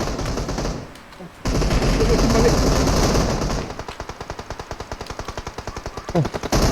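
Rapid bursts of Vector submachine gun fire in a video game, loud and close, with a long sustained volley followed by choppy repeated bursts, and voices talking over the shooting.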